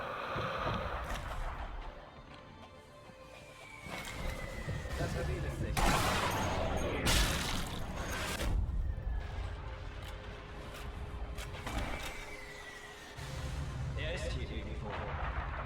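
Bombs explode in the Sniper Elite V2 video game as heavy, rumbling blasts with a hissing whistle and a dense barrage of booms, while someone talks over the action.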